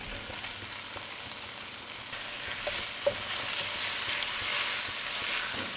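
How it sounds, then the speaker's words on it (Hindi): Barbecue-grilled chicken pieces frying in oil with tomato paste for butter chicken, a steady soft sizzle with faint stirring scrapes throughout and one brief tap near the middle, no voices. "इसको 2 से 3 मिनट तक हमने इस पेस्ट के साथ फ्राई करना है"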